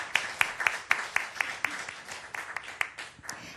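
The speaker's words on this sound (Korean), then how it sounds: "다시 한번 박수 부탁드리겠습니다" Church congregation claps at an Easter Sunday service, a fairly sparse, rhythmic run of individual hand claps, close and distinct, with a few voices murmuring underneath.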